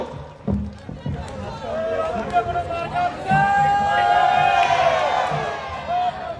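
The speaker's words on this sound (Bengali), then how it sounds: "আমরা সবাই করতালির মাধ্যমে জনাব শামসুজ্জামান শামু ভাইকে গ্রহণ করব।" A crowd at a BNP street rally in Rangpur-3 cheers, whoops and claps to welcome candidate Shamsuzzaman Shamu, a loud, sustained roar of voices that swells midway and carries on.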